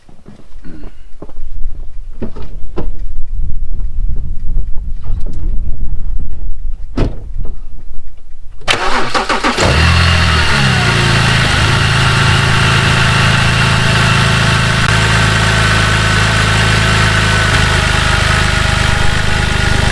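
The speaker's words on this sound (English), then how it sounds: "I can start the car." A car engine cranks and catches after a jump start, settling into a loud, steady idle that runs continuously after a few quiet clicks and knocks.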